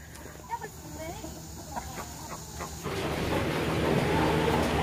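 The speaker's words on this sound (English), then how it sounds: "Birds, birds, birds." Chickens and guinea fowl clucking and calling on a farm, scattered close calls over outdoor background, with a person talking and a rising broadband rustle or wind noise in the second half.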